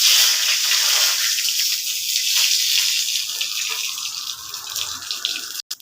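Whole cumin, bay leaf and dried chilli crackle and sizzle in hot oil, a steady bright hiss close by that thins out slightly toward the end, with no voices over it.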